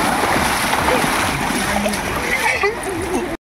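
Water splashing and churning in the Jampanna stream as people play in it, a busy, close, continuous splatter with voices of people talking and calling over it.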